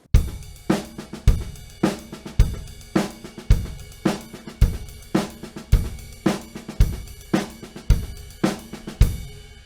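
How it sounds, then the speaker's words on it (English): A drum kit plays a paradiddle groove with the right hand on the ride cymbal, steady repeating hits with strong accented beats in an even rhythm, close and alone. "We can also apply this groove by moving our right hand to the ride cymbal."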